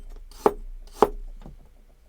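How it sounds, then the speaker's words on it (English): A kitchen knife chops through stacked carrots on a cutting board for julienne, two crisp, close knocks about half a second apart, then a softer third cut, alone and quiet. "I would be either stacking them and then cutting into julienne"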